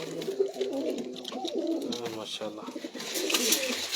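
A pure Batera pigeon, sixteen years old, coos in repeated rolling phrases close by, while someone talks over the calls.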